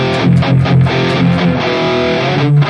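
A dry distorted electric guitar lead tone from a Valeton GP-200 modeler with reverb and delay switched off, playing a short melodic phrase of sustained notes, loud and close.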